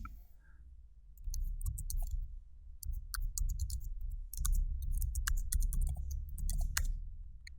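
Computer mouse and keyboard clicks at a desk, a scattered run of quick, close taps over a steady low hum, with no talking.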